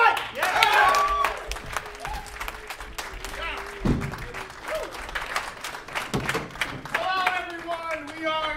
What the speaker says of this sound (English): Please give a big round of applause for Seagull-related fish fight!